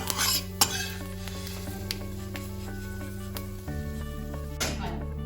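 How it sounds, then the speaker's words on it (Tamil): Fenugreek seeds being dry-roasted in a pan for Chidambaram kosthu podi, with a spoon stirring and scraping against the metal over a soft, continuous sizzle and occasional clinks. "அடுத்தது வெந்தயம் ஒரு ஸ்பூனை அதை வறுத்து எடுத்துக்கணும்"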